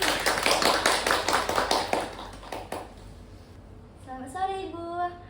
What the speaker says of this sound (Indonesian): Tepuk tangan dulu dong untuk Ibu Putri